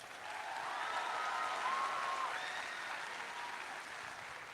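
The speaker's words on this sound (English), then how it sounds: "please give a massive round of applause" Audience applause at Dublin Comic Con for a cosplay judge, a steady, fairly faint wash of clapping from a crowd that holds for several seconds and then eases slightly.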